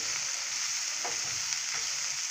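Sliced bologna and onions frying in a pan over lowered heat, a steady close hiss of sizzling oil with a couple of faint stirring scrapes.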